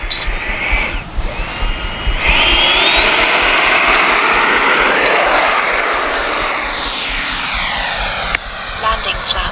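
A Freewing F-86 radio-control jet with an 80mm electric ducted fan roars loudly through its takeoff run, a steady high-pitched whine rising and sweeping in pitch as it climbs away, with talk over it.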